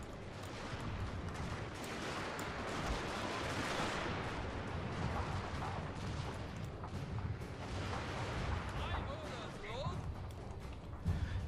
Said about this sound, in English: And the Gatling guns have opened up.